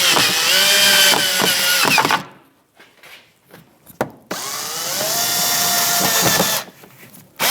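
Power drill driving Phillips head screws into a backing plate during rear strut and spring replacement on a Jeep Renegade: two loud, close whirring runs, the first ending in a sharp stop, separated by a quieter pause with faint clicks and handling.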